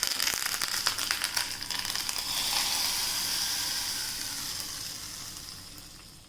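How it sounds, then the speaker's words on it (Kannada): Mustard seeds, dry chillies and curry leaves sizzle in hot oil for a tempering on a gas stove that has been switched off. The crackling hiss starts loud and close with sharp pops, then settles into a steady sizzle that slowly fades. "ಗ್ಯಾಸ್ ಆಫ್ ಮಾಡಿಕೊಂಡು ಒಗ್ಗರಣೆ."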